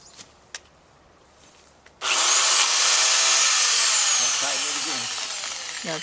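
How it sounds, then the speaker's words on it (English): A chainsaw with a freshly tightened chain bursts into a loud, sustained cut while palm trees are trimmed, running steadily for several seconds and easing slightly toward the end, with faint talk underneath. "made some adjustments to the saw blade and it's back to work"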